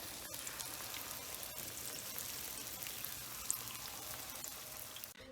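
Steady crackling sizzle of stuffed zucchini flowers frying in hot oil, a dense constant spatter close by, with no talking.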